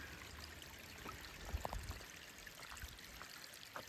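Water trickles from a spring spout along a wooded mountain trail, a soft continuous splashing stream with a few faint drip accents, quiet and close.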